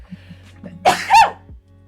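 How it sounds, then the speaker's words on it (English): A single sharp sneeze, preceded by a quick inhale, close and loud against a low background hum. "I'm gonna sneeze."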